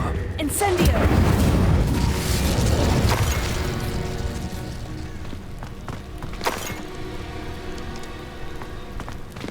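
Fiery spell blasts from Incendio and Confringo in Hogwarts Legacy burst loudly near the start, settling into a rumbling, crackling wash with another sharp burst midway, while voices speak over the din.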